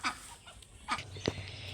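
A chicken in a rural household poultry yard clucks a few short, faint calls in a quiet outdoor setting, with a soft low hum underneath.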